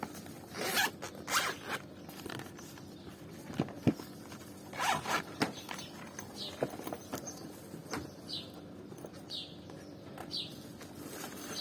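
A zipper on a drawing case is pulled open in several short, close, quiet rasping strokes, followed by a few faint rustles.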